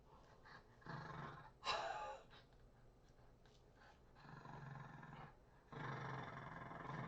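A 24-pound pug growls while playing with a toy, giving low throaty rumbles and snorting, rough bursts that come in several separate stretches, fairly faint and close, with no talking.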